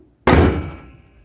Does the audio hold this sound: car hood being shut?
yes